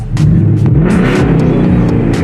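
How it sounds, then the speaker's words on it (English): A deep V8 exhaust on a sixth-generation S550 Ford Mustang GT 5.0L revs loudly and steadily, a continuous rumbling roar with rising and falling throttle blips, heard up close from inside the car. "listen to the exhaust while we're just kind of sitting right here in the cabin"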